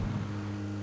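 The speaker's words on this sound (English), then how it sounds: "Oh, the engine goes that noise" Vehicle engine in the game PUBG, a steady low rumbling drone with strong harmonic hum, close and continuous, no talk over it.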